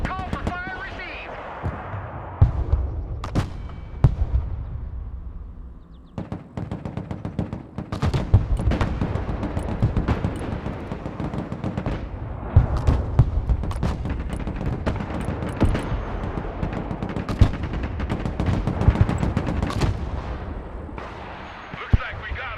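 Artillery and gunfire in the video game Broken Arrow, with repeated sharp blasts and booms spread through a dense, loud battle mix while voices talk over the action.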